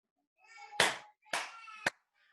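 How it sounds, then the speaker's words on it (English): Three sharp hand claps used as an audio sync marker during a podcast interview, ringing out close and loud, each a quick smack with a short decay, over faint voiced sound. "actually just do a clap for the audio, so you can see"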